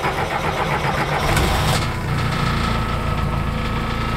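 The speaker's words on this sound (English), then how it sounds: "that is one quiet engine" A 1973 Mitsubishi-built Jeep Willys with a 2.3-litre engine, Japanese military four-wheel-drive model, runs at a steady, fairly quiet idle close by, with a brief swell early on, and no voices.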